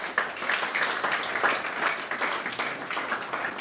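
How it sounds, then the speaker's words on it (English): An audience claps together in applause for an honoured researcher, a steady, even patter of many hands at moderate loudness throughout. "I think we clap to that."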